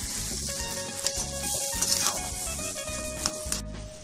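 Pav bhaji mixture stirred with extra butter in a hot pan, a continuous close sizzle with repeated rhythmic scraping strokes of the spoon throughout.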